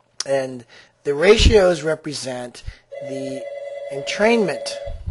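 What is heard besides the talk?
mobile phone ringing with NFL theme ringtone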